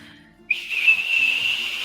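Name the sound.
high-pitched shrieking whistle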